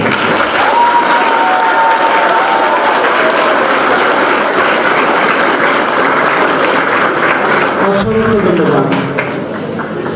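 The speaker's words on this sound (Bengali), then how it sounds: "তাদের জন্য ডাবল হাততালি" Loud, dense audience applause at a university event honouring Jumma students, a steady wash of clapping for most of the stretch that thins abruptly near the end.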